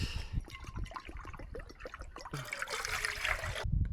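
Water trickles and splashes into a metal container on a camping stove, a close, uneven pour with gurgling bursts, ending in a louder rush before stopping abruptly.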